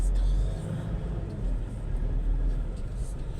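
Car idling and creeping through traffic in BF Homes, Parañaque, a low steady engine rumble with faint street noise around it.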